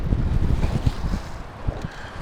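A wave slaps over the bow of a small fishing boat on a windy spring day, a close heavy splash and thumps against the hull amid gusting wind noise on the microphone.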